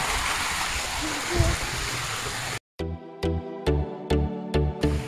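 Water flows down from the hills through a channel at a mountain village in Oman, a steady rushing, splashing stream heard up close for a few seconds before the sound cuts away.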